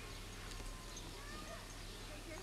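Faint clip-clopping of a horse's hooves on a village path in 1997 Tokat, Turkey, low under a steady outdoor hiss.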